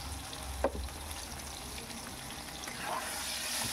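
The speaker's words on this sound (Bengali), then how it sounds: "দেখুন আলুগুলোকে ভেজে নিচ্ছি" Potato pieces with salt and turmeric fry in hot oil, giving a soft, steady sizzle close by. A brief clink comes early on, and there is no talking.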